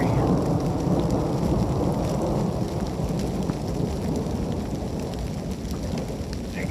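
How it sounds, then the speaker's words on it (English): Cold rain pours steadily on a hiking trail in Georgia while thunder rumbles low and continuous beneath it, a dense, loud wash of sound with no voices. "The sky has grown dark. The rain is cold. And the gods, they're angry."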